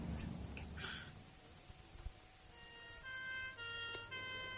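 An ambulance siren in a radio drama scene. Steady tones rise in after a quiet, breathy opening and hold loud and near until the end, with no talk over them.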